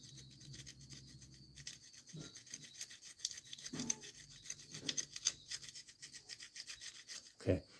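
A razor blade scrapes old gasket material off the passenger-side cylinder head of a 1996–2005 Chevy Astro, giving repeated close, quiet rasping strokes with a few sharper scratches.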